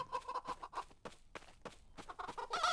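In a Roblox chicken game, a chicken clucks in quick, choppy bursts at moderate to faint volume, closing with a brighter, louder flurry of squawking.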